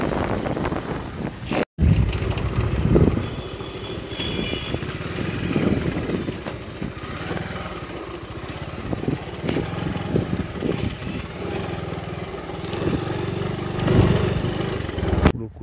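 A motorcycle rides along a rural road in Nadia district, its engine drone mixed with heavy wind buffeting on the microphone, continuous and fairly loud with a brief cut early on.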